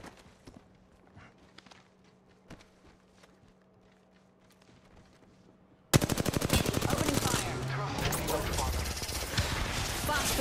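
Rapid bursts of video game gunfire in a team shooter break in suddenly after a quiet stretch of soft footsteps and clicks, then keep rattling loud and dense to the end.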